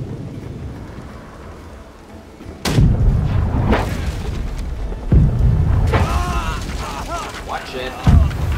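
Cannon fire in the naval battle game Blackwake: a heavy boom near 2.7 s, more booms around 5.2 and 8 s, and rumbling battle noise between them while players shout commands.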